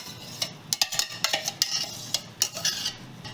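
Besan being roasted in ghee over medium heat, stirred with a utensil in a pan: a run of sharp scraping strokes over a faint, soft sizzle.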